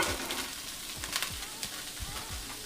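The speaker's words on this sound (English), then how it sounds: "my pan's nice and hot, and I'm just gonna add in my onion" Chopped onion hits a hot pan and sizzles steadily for a few seconds, with soft scraping stirs and no talking.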